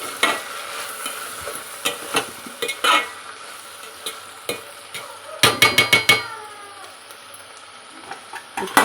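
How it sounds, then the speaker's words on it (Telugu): Chopped ivy gourd pieces frying with onions in a pan are stirred with a utensil, giving a soft sizzle under repeated scraping and clinking strokes, with a quick cluster of close clatters partway through. "ఆనియన్స్ ఫ్రై అయినాయి కదా, ఇప్పుడు కట్ చేసిన దొండకాయ ముక్కలు వేసుకుందాం. ఇప్పుడు ఒకసారి కలుపుకుందాం."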